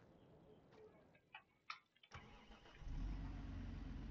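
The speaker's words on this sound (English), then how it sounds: "we're gonna fire up the tractor here" A tractor engine in a farming video game cranks with a few clicks and sputters, then catches at about two seconds and settles into a steady, loud rumbling idle.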